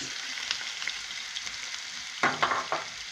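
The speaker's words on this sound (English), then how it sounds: "After the oil is heated, now I put the minced meat." Minced beef sizzles steadily in hot oil for a samosa filling, a constant close crackle with a few louder bursts of stirring near the end.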